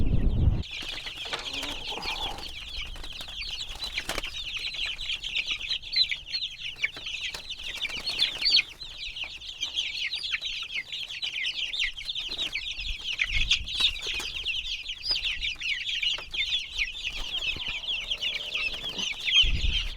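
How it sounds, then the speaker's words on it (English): A crowd of egg-laying chickens in chicken tractors on pasture chirps and clucks continuously, a dense high-pitched chatter with occasional nearby scuffles and thumps. "these are some happy chickens. Everybody just chirping up a storm"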